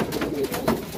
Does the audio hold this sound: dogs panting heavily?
no